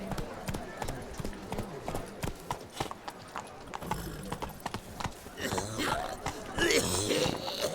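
A horse in Witcher 3 trots with rhythmic clip-clopping hooves and grows louder and busier toward the end, mixed with game ambience.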